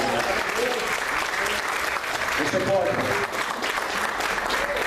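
Church congregation applauding steadily throughout, a dense wash of clapping with a voice speaking over it.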